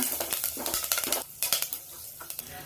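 Cumin, chopped green chilies and curry leaves frying in a pan for rasam, stirred with a spoon: steady close sizzling broken by a quick run of scraping strokes, alone with no voices.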